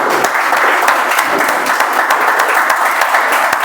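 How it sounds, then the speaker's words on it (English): Audience applause fills a Toastmasters meeting room, a dense and loud burst of clapping that holds steady from start to finish. "let's give a huge round of applause for all the speakers and the audience as well."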